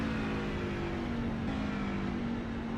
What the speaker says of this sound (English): You can hear them shift.